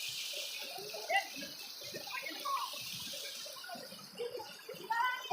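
People splash water around in a playful group, a soft, fairly distant wash of sloshing and scattered splashes with a few louder slaps near the end, under faint background voices.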